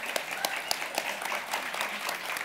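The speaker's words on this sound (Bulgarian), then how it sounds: "искам един аплодисмент и за Любо веднъж в живота му" Audience applause at a live talk on the biology of forgetting, a steady wash of many hands clapping at moderate loudness throughout, with a few sharper individual claps standing out and faint voices mixed in.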